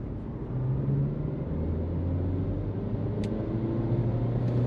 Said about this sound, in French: Une petite montée en régime à 80 en mode sport.